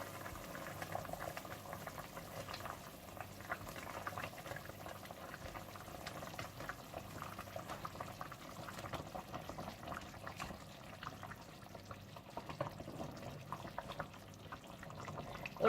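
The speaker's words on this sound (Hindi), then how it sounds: "और जब पानी में उबाल आ जाए" Steady bubbling and rumbling of water at a rolling boil in a pot, a continuous low churning hiss with no voices.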